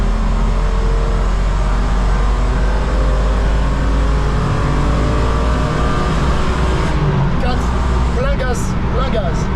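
A rented BMW is driven flat out on the Nürburgring, its engine a loud, sustained in-car drone with steady tonal lines, while an instructor talks over it; near the end shifting tones and squeaks break in.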